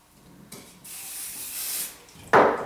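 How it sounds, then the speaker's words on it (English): Hairspray from an aerosol can hisses onto a short hairstyle in two bursts, a brief one and then a longer steady spray, followed by a sharp rustle near the end. "Spray that."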